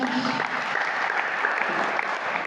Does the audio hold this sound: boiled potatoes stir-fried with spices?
no